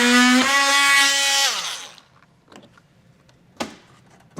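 A power tool cuts openings in a 2024 Chevrolet Equinox bumper, first as a loud, high, whining buzz that winds down and stops, then a few faint clicks and one sharp knock.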